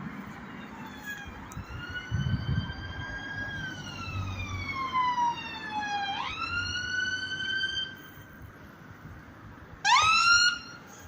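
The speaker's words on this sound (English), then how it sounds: "Ambulance for Mrs. Miscopoulos." A loud ambulance siren wails and sweeps up and down in pitch as it passes, then a short burst of rising yelps near the end.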